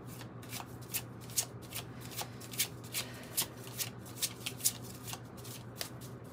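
Tarot cards shuffled by hand in a steady run of crisp riffling bursts, about a dozen evenly spaced, close and clear with a low steady hum underneath and no talking.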